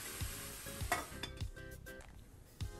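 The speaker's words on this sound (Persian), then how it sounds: "حالا بریزید تو مایتابه داغ و در اونو ببندید" Grated, pureed tomatoes sizzle in a hot covered frying pan, a steady close hiss with several dull knocks of pan, lid or utensil punctuating it at irregular intervals.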